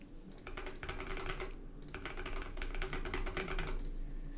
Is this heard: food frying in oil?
no